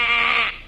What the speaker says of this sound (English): I noticed a row of cattle ships all loaded with sheep.